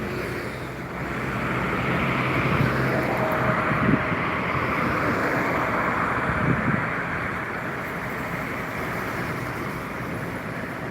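Tanker truck passing on a highway, a broad rumbling roar that swells and fades with steady wind-like road noise around it, no voices.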